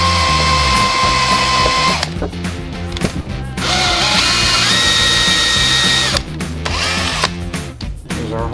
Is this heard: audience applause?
no